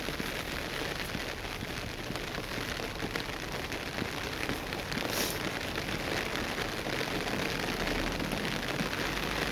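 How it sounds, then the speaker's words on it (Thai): Steady rain falls over a street in Bergen, Norway, making a dense, even hiss of drops that carries unchanged from start to finish with no voices. "เสียงฝน"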